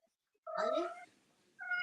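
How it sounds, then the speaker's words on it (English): A cat meows twice up close, a clear drawn-out first call followed by a shorter second one after a brief pause, fairly quiet overall. "Meow, meow, meow. Let her outside and Tomcat will find her"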